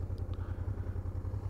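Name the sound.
Honda TransALP motorcycle engine idling on a slope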